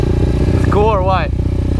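An SSR 125 pit bike engine drones steadily on a dirt trail beside power lines, while a voice cuts in over the middle of the ride.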